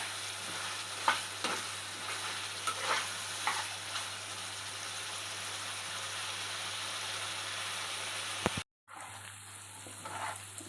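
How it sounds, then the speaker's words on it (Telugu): Mutton heart frying in a pan until its water cooks off, a steady sizzle with occasional stirring scrapes, close and fairly quiet, briefly interrupted near the end. "నీళ్ళన్నీ ఇనికిపోయిన దాకా వేపేసుకోవడమేనండి"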